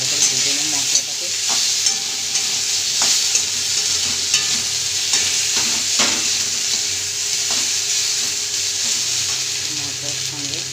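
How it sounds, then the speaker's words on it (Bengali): Potato frying in a pan with ginger, turmeric and chili powder, giving a steady close sizzle throughout with occasional stirring scrapes and clinks, and no talk. "আদার সঙ্গে ভালো করে ভেজে নেব মশলাটাকে।"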